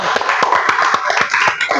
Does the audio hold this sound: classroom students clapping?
yes